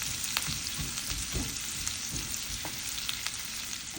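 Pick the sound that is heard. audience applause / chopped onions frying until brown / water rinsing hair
chopped onions frying until brown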